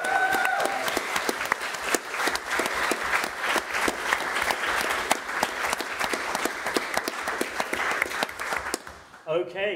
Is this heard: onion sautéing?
no